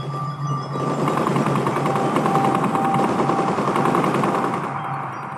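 German WWI machine guns firing in sustained rapid bursts, a dense continuous rattle that stays loud and steady throughout, easing slightly near the end.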